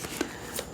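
A deck of oracle cards is shuffled up close, giving a few quick papery riffles and flicks that end in a louder burst.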